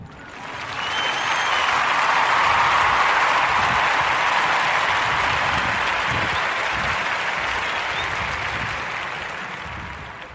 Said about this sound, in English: Can you give me a hand? Can you give me an applause?